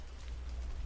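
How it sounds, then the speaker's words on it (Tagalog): Steady rain falls outdoors on a family hike in Sapa, Vietnam, a dense continuous hiss with a low rumble, like wind, underneath, with no talk. "Laban pa rin kahit umuulan."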